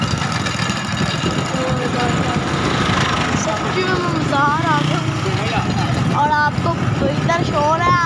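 A busy market street with motorbikes, a constant rumble of traffic and engines and crowd noise behind someone talking close up.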